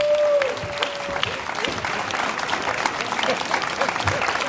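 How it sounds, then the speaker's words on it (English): Crowd at an outdoor groundbreaking ceremony in Brooklyn for a new African artifacts cultural museum, clapping steadily and densely throughout, with a brief tone and faint voices near the start. "I want y'all to give a soul rhythm clap"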